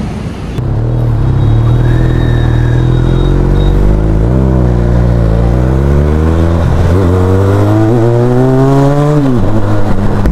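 A motorbike rides on the road from Bengaluru toward Konapura, its engine pulling loud and close and rising in pitch through several gear changes over steady wind rumble, with no talking.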